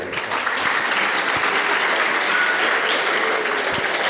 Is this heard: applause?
yes